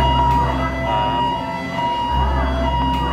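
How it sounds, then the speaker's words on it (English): A wailing siren during Hawaii's missile alert rises and falls at a steady distance, carried over continuous low engine rumble of a driving car, with faint voices underneath. "And now there is a siren."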